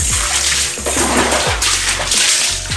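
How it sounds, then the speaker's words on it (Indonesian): Water from a hose splashes and rinses over a motorcycle wheel rim being painted gold, a Jupiter Z1 Injection rim, in uneven gushing spurts with sloshing dribbles close by. "kita bilas semuanya sampai bersih"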